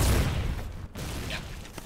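An artillery gun fires in the war game Foxhole with one heavy boom at the start, then a rumbling decay and a few fainter distant thuds and cracks afterward.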